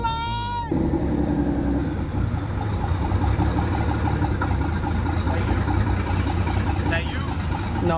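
A Nissan 300ZX engine running just after its first start gives a loud, steady rough idle with a deep throb close by, while excited voices talk and shout over it.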